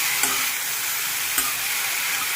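Pirandai and curry leaves sauté in sesame oil with a constant bright sizzle, marked by two brief scraping strokes of a stirring spoon.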